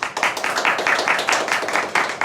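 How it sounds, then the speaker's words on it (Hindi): Audience members at a Hindi stage play clap in a quick, steady rhythm of hand claps, close and fairly loud, lasting a couple of seconds. "जोरदार तालियां दोस्तों"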